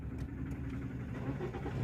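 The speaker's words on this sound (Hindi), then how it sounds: "अब अपनी गाड़ी को चाबी से स्टार्ट" A car engine started with the key during a driving lesson settles into a steady, even idle. The low rumble is close and continuous, with no talking over it.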